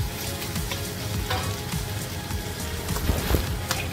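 Pork sizzles and crackles steadily in a hot pan as spicy XO sauce is stirred through it, a dense frying hiss with occasional scraping and popping, close up and with no talking.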